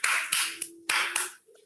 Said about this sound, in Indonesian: Tepuk tangan dong untuk Bapak ini.